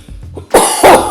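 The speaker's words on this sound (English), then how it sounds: "So I have still little cough, but not that bad." A person with a lingering cold gives two quick, harsh coughs close to the microphone after a few soft breaths.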